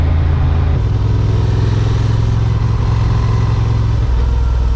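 A 2023 Honda XL750 Transalp motorcycle engine runs steadily, a loud, close, continuous mid-pitched drone with a small shift in tone partway through and no speech.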